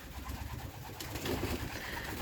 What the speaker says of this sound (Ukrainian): Ось що відбувається, коли дати голубам зелень.